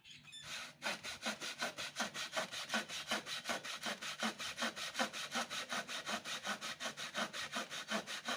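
A hand saw cuts through wood in steady, rhythmic back-and-forth strokes, close and clear, continuing without pause after a brief start.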